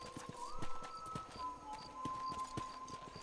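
Horse hooves clip-clop at a steady walking rhythm in Red Dead Redemption, a string of close, evenly spaced thuds over a low tonal game background.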